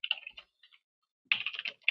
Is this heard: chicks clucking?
no